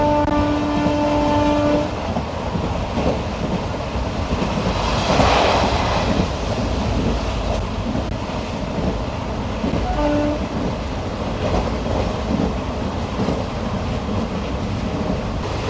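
The PDY MS Express 16116 runs between Puducherry and Mahabalipuram. Its continuous rumble and rattle come from on board, and a sustained horn tone sounds at the start and again briefly near the end.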